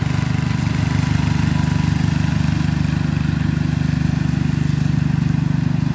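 A Craftsman 14HP OHV riding lawn tractor engine runs steadily nearby, a loud, even low-pitched rumble with a fast regular pulse and no break across the whole stretch.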